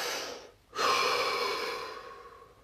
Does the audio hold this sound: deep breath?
yes